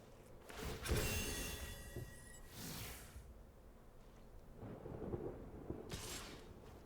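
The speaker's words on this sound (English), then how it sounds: "They're going to fire off a lightning strike." A lightning strike spell fires off in the digital card game MTG Arena, giving a loud thunder crack and rumble with a sharp hissing burst near the start, a second softer rumble, and a bright crackle toward the end.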